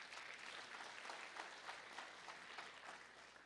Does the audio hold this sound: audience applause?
yes